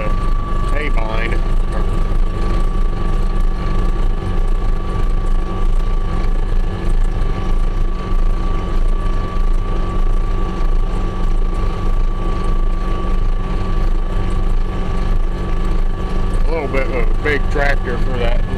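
An open-station 2150 tractor pulling a disc haybine, its engine a steady, loud, unbroken drone with a low mechanical rumble throughout.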